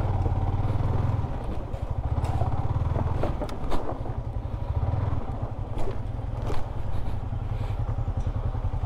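Motorcycle on a rough rural track revving hard to climb onto a broken bridge, a loud close engine chugging with rising throttle bursts, rattles and clatter, no talk.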